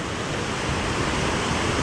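Rushing high water of the East Fork Bear River, a small mountain stream running unusually full, gives a dense, steady roar with no letup, close and loud.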